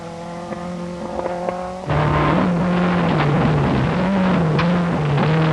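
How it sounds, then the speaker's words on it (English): Renault 5 Turbo rally car on a forest stage, engine droning with a steady tone before rising sharply into a loud, revving run with shifting pitch and gravel noise. "Now Chris Barnes. This Renault 5 Turbo."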